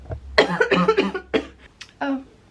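Several sharp coughs in a quick burst, close to the microphone, followed by a softer cough or throat sound a moment later.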